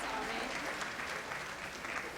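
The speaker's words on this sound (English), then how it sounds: "Please give another round of applause for my Fleur-de-Lis, and Miss Southeastern 2038, Tommy Lynn Mila" An audience at a scholarship pageant competition applauds steadily, with a dense, even wash of clapping filling the room throughout.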